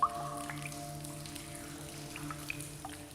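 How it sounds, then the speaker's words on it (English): Water drips from stalactites in a cave, with a few sparse, soft plinks scattered over a low steady hum of background sound and a faint echoing ambience. "Drip by drip, sculptures are formed."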